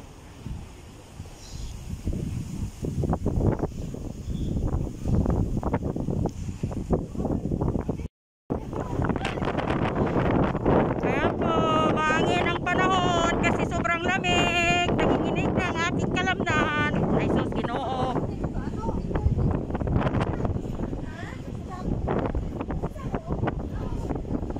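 Wind buffets a microphone at a seaside spot, a steady rough rumble with gusty rustling that runs almost without a break, while people talk faintly underneath.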